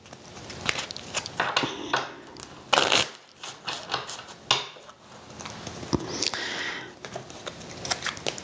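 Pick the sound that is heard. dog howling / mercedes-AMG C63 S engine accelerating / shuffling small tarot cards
shuffling small tarot cards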